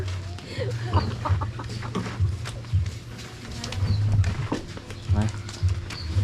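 Chicken clucks break out in short bursts at close range, mixed with other bird calls over a steady rural background, while people talk throughout.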